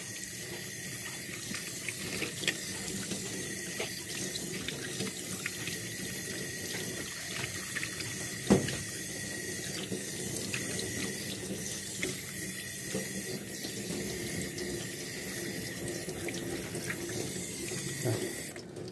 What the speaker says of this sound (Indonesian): Jangan terlalu kencang airnya, agar kita meminimalis masuknya air ke dalam reel ya